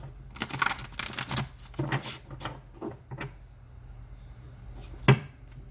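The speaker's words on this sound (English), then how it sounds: "Alright, one more shuffle." Tarot card shuffling in short bursts of riffling and tapping, with pauses between, close by and moderately loud, ending in a sharp snap.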